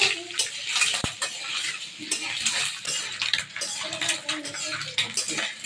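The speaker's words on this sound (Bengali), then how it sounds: "ডিমটারে হালকা লাড়াচাড়া করে রাখতেছে।" Quail eggs stirred in a cooking pan produce repeated scraping and light metallic clinks from a utensil in an uneven rhythm, with one sharp knock early on.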